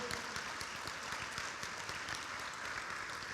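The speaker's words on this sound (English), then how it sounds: "Nice round of applause for Russell." An audience at a high school football hall of fame induction ceremony claps steadily, a dense even patter of many hands at moderate volume with no voices over it.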